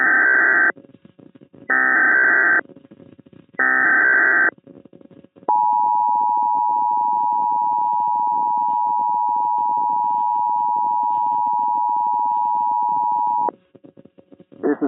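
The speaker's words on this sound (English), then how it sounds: "We have just received an emergency alert from the United States government." A United States Emergency Alert System broadcast: three short bursts of harsh data tones, then a long, loud, steady two-tone attention signal that holds for about eight seconds before cutting off.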